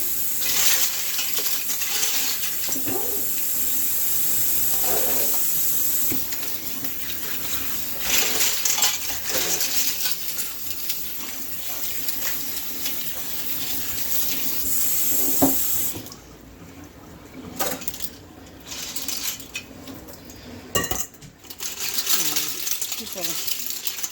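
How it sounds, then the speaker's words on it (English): Sea shells are rinsed under running water in a sink, with a steady gush from the tap, clinking and rattling as the shells knock together, and quiet talk now and then. "We're just going to give them a quick rinse."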